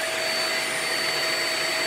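A Bosch toy electric vacuum cleaner runs with a steady, close, high whirring whine that holds an even level throughout.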